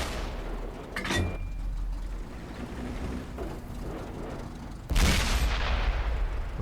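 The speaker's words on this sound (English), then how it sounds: "Artillery's fired again" Artillery fire in World of Tanks on console: two heavy booming blasts, one early and one louder near the end, over a continuous low rumble of battle.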